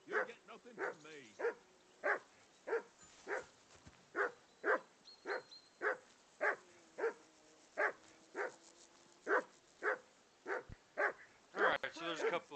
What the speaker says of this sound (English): First thing we're going to do is shut this dog up.